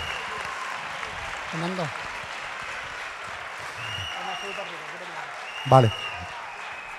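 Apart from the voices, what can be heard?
audience applause for civil protection and Red Cross volunteers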